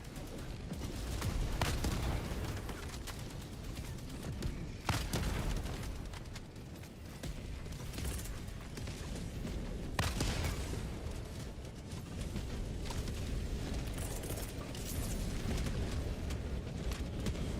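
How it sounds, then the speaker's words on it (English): Mortar strikes and explosions in the video game Helldivers 2, a dense, continuous barrage of booming blasts and gunfire-like bursts with sharp louder hits around the middle, loud and sustained throughout with no talk. "Mortar."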